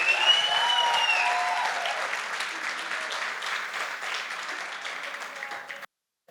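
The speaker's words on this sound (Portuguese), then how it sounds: "Dá uma salva de palmas aí pro Arthur, ó." A church congregation gives a round of applause for a volunteer named Arthur, broad sustained clapping with some cheering, fading slightly before cutting off abruptly near the end.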